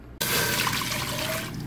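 Water pours steadily into a container for cucumber pickling brine, starting abruptly and running as a continuous close splashing stream with no talking.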